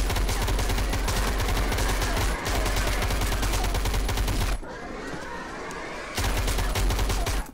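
Enemies shoot in the video game Starforge with rapid, sustained automatic fire, a dense loud stream of shots that pauses briefly twice and then resumes.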